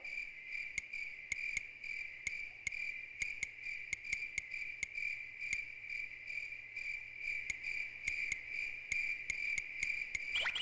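A dense, unbroken cricket chorus fills a forest scene in the game Lunar 2, a loud, steady high-pitched trill with regular sharp clicking pulses and no voices.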